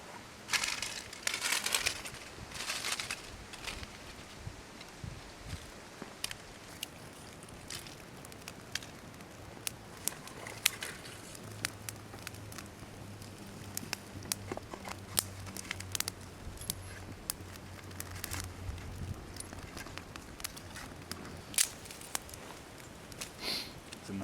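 A freshly lit campfire of paper bark kindling crackles in the Australian bush on a windy winter night, with scattered sharp pops and snaps over a low wind rumble.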